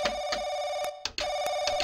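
A telephone in the horror game Paranoiac keeps ringing loudly, a steady bell tone broken by one brief gap, with faint clicks and small sounds beneath it.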